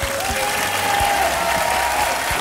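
A studio audience at a French talk show applauds an improvising musician, a full, steady crowd clapping throughout, with a faint sustained tone running faintly beneath it.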